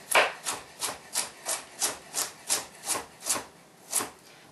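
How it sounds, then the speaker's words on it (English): A knife cutting through a carrot on a board, about eleven evenly spaced, rasping strokes at a steady rhythm, close and clear with no voices. "We're going to go ahead and run our knife straight through the carrot"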